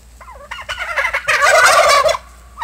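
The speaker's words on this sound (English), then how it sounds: "But aren't these turkeys becoming beautiful creatures?" Farmyard turkeys gobbling on a spring day, a loud, close burst of rapid, warbling calls that swells and then cuts off, with softer clucks leading in.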